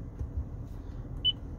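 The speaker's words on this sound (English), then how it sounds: "simply press and hold and wait for the beep, and you'll see that that station is now saved into that preset slot" A 2014 Toyota 4Runner Limited's radio gives a single short, clear electronic beep to confirm a station saved to a preset, heard once near the end over a low, steady cabin rumble.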